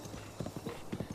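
Video game horse hooves clip-clop in a quick galloping rhythm, close and fairly loud, with several rapid beats across a short stretch.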